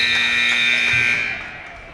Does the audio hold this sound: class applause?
no